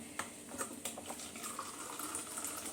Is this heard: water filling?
yes